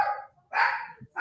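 A dog barks close by, two or three short loud yelps with a brief pause between them, no talk over them.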